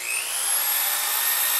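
Portable electric drill mounted on a Strong Arm 5 drill press arm, a steady high whining motor drone close and loud, rising slightly in pitch as it spins up and then holding constant.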